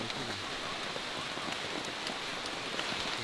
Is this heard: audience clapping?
no